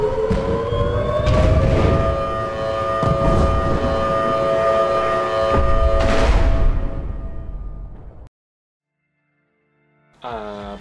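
A wailing air raid siren over Baghdad at night holds a long steady tone with booming thuds of bombing beneath it, then cuts to silence before a rising siren wail returns briefly.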